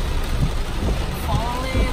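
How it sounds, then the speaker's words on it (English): Heavy rain drums steadily on a car's roof and body during a drive, a dense continuous patter with occasional louder thuds, loud and close throughout. "Grabe yung raindrop."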